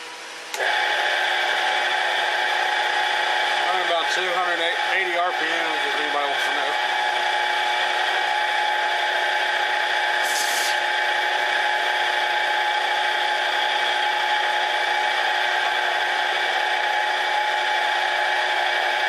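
A power drill runs continuously, a loud steady high-pitched motor whine that starts abruptly and holds for the full stretch, with brief speech-like warbles near the start.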